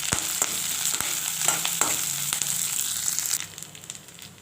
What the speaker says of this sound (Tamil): அந்த எண்ணெயிலே பொன்னிறமாக வறுத்து எடுக்கணுங்க